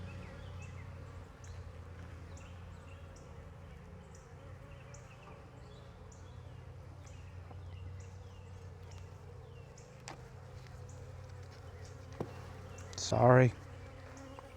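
Honeybees buzz steadily around an open hive during an inspection, a low continuous drone throughout, with a brief louder burst near the end and a short spoken word.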